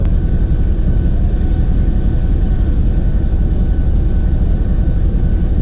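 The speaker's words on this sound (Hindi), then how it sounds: "जो इंजन साउंड है आपको सुनाई दे रहा होगा।" Steady, loud low rumble of a 2000 horsepower G20 diesel locomotive, number 4551, idling at the head of a passenger express at a red signal in Multan Cantt station, continuous and unbroken with no talk.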